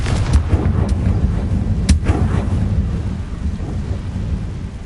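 A Confringo fire spell from Hogwarts Legacy bursts over a deep rumbling, storm-like background, with a sharp crackling blast near two seconds among a few smaller pops, loud and without speech.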